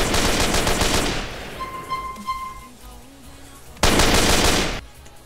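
Modded machine gun fire in GTA San Andreas, from a Call of Duty Black Ops weapon pack, comes as a loud sustained burst, drops away to a short lull with faint pings, then returns as a second dense burst.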